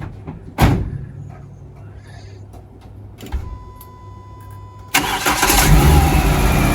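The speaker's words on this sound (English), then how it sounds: "And we've got a running engine." A Renault Clio 172 fires up: after a few short mechanical clicks and whirs, the engine cranks and catches, then settles into a loud, steady run close by.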